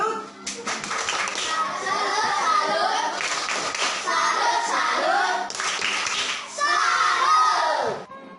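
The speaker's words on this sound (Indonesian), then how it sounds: "Tepuk salut buat Pak Seth." A classroom of children claps a rhythmic salute together in bursts, mixed with excited children's shouts and chatter, loud and close throughout.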